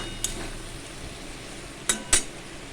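Masala stirred in a cooking pan with a splash of water, heard as a faint low sizzle with a few sharp metallic clinks and scrapes of the spoon against the pan, quiet and with no talking.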